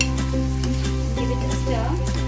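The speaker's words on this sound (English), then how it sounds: "I will now let the masala cook for just a few seconds" Masala sizzling as it cooks in a pan for an egg dumpling curry, a continuous close hiss running under steady background music.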